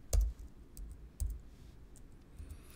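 Taps on a computer keyboard while entering data into a Google Sheets spreadsheet: two louder key clicks roughly a second apart, then fainter scattered taps, close and alone with no talk.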